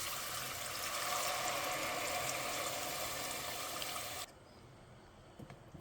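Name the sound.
tamarind juice being poured into fish curry gravy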